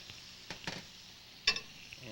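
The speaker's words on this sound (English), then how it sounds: "Stir the pasta, make sure it doesn't stick to the pot" Pasta being stirred in a pot while cooking, with a few faint, scattered scraping clinks of a utensil against the pot over a quiet sizzling background.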